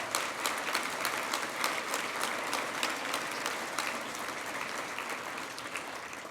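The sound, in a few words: audience applause for SBA award recipients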